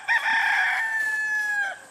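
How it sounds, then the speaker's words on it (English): A backyard rooster gives one long, loud cock-a-doodle-doo crow, close and clear, sustained nearly two seconds and tapering off at the end, with no talk over it. "I don't know why this guy's crowing so much"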